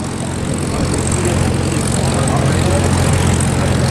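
A WWII P-51 Mustang propeller plane rolls in at an airport, its engine a loud, steady droning buzz close by for the whole stretch.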